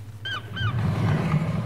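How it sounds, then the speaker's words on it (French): Seagulls call twice in quick succession, short sharp rising-and-falling cries over a low background hum, fairly close and moderately loud. "Ici, vous n'avez pas entendu les mouettes?"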